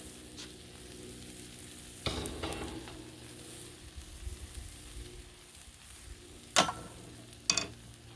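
Jalapeno cheddar chicken burgers sizzling on a Blackstone griddle, a faint steady hiss with scraping spatula strokes and a few sharp metallic clacks.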